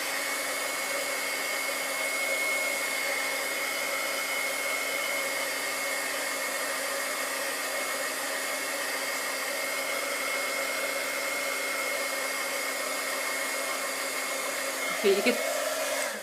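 A hair dryer blows steadily over stamped ink on card paper, a loud, constant whooshing hum that lasts the whole stretch with no talking, and ends with a brief click and bump as it shuts off.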